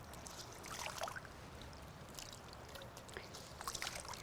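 Heavy wet laundry wrung out by hand at home, water trickling and splashing down in faint, uneven bursts over a quiet steady background.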